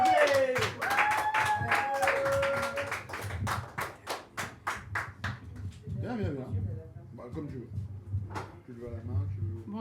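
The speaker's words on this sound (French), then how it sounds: "on l'applaudit très fort pour l'encourager" An audience claps for a poet stepping up to the microphone at a slam poetry tournament in Antibes. The clapping is quick and rhythmic, then thins to scattered claps, and a voice talks and calls out over it.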